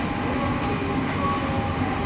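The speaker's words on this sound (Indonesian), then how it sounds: "Oh iya, tadi tuh keretanya tuh." A train moves through a station below the listener in Lille, France, giving a steady, continuous rumble and rail hum at moderate level with no speech over it.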